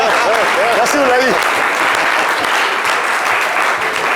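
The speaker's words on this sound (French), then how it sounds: "On va applaudir très très fort." Loud, close applause from a studio audience fills the whole stretch evenly, with a voice speaking over the first second.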